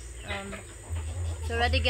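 Clucking chickens at an off-grid island family farm in the Philippines, with a few short harmonic calls close by under a steady low hum and someone talking.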